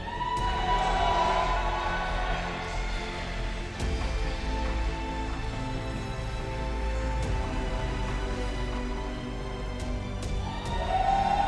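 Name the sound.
audience applause and cheering at esports event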